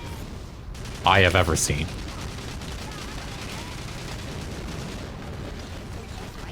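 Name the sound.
mortar fire and explosions in video game Battalion Wars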